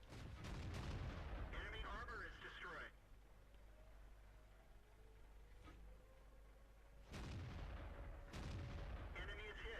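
Tank cannon fire in World of Tanks from a T-34-85 firing premium rounds at an AT2, heavy booming shots in a burst at the start and again near the end, over constant engine rumble and game noise.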